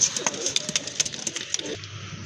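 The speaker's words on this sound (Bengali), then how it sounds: "অস্থির এক জোড়া কবুতরের কালেকশন, খুবই সুন্দর চমৎকার এক জোড়া কবুতর" A pair of pigeons coo in soft, repeated low calls, close by and steady, with faint higher chirps and small rustles between them and no voices.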